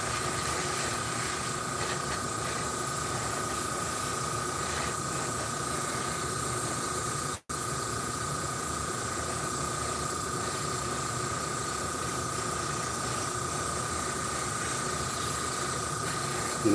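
An airbrush sprays thinned paint in a home garage with a steady, continuous hiss that runs nearly unbroken for the whole stretch, briefly cutting out once midway.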